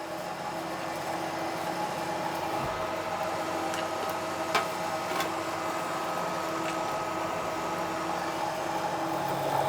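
Steady lathe whirring and grinding while cutting metal runs throughout, a continuous mechanical drone with a few sharp metallic ticks, close and moderately loud.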